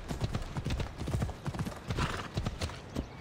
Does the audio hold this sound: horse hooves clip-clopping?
yes